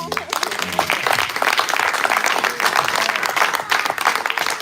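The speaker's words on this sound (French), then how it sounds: "Est-ce qu'on peut les acclamer?" A church congregation at a Christmas service applauds and cheers, dense continuous clapping from many hands with crowd voices mixed in, sustained and fairly loud.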